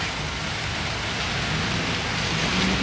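Steady rain falls outside a home centre in Montego Bay. It makes an even, dense hiss that stays constant throughout, with no voices over it.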